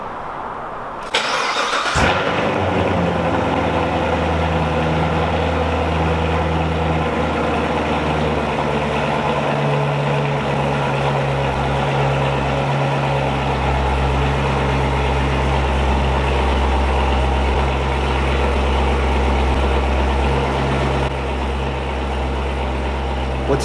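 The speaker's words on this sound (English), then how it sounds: "I'm going to start the car and raise and lower it for you." A 2016 Corvette Z06 convertible fires up with a sharp burst, then settles into a loud, steady, deep idle that continues close by throughout, with mechanical whirring as the soft top raises and lowers.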